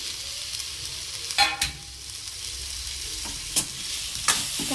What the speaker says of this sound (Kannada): ಸೊಪ್ಪೆಲ್ಲ ನೀಟಾಗಿ ಫ್ರೈ ಆಗಬೇಕಲ್ವ ಆಯಿಲಲ್ಲಿ